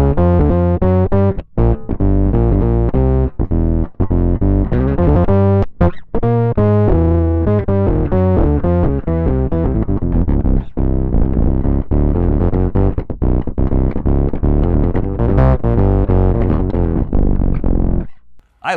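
Electric bass guitar run through an MUFX octave divider effect, a thick distorted synth-like tone with added octave layers, steady sustained notes and quick runs played alone and loud throughout.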